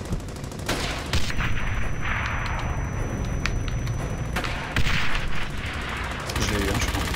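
Sustained gunfire and explosive bursts in the World War II shooter Brothers in Arms: Hell's Highway, loud and continuous with rattling automatic fire and sharp booming impacts throughout.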